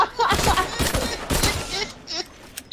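Rapid automatic gunfire in the Apex Legends video game crackles in repeated bursts, fairly loud, fading into a few scattered shots toward the end.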